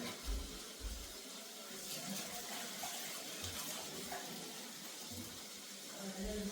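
Water pours steadily with a continuous splashing hiss, close by, with soft thumps and clatter underneath, as water is added to a cooking pot with turmeric powder.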